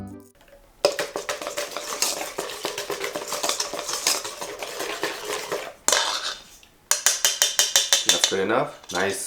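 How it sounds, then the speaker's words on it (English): A whisk beats batter of flour, potato starch, salt, oil and water in a bowl with rapid rhythmic metallic clinks and scrapes, loud and close, in two bursts separated by a short pause. "Now I'm just gonna whisk all that together."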